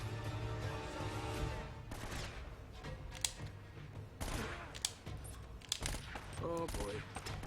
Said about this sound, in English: So this is another gun I've never shot before. I believe it's an Uzi.